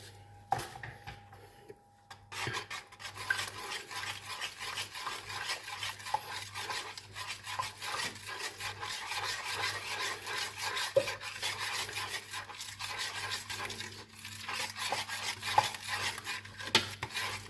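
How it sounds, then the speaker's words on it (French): Mustard and cream stirred together in a pan, a quiet continuous scraping and rubbing of a spoon against the pan with irregular light clinks, steady throughout with no voices. "On mélange bien."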